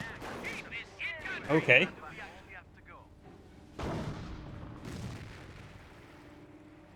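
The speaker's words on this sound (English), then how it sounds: "these guys are firing off rifle grenades against the aircraft" Soldiers fire rifle grenades at aircraft in the WWII strategy game Company of Heroes, giving sharp gunfire cracks and a couple of heavier bursts amid battle noise, with a voice briefly speaking over it.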